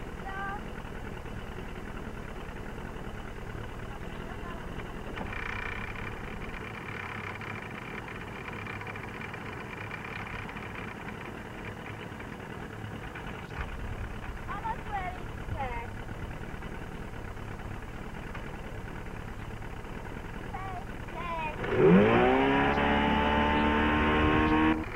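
A motorboat engine towing a water skier in 1990 drones steadily at mid distance, with voices talking over it, then the engine grows louder and rougher near the end as it accelerates.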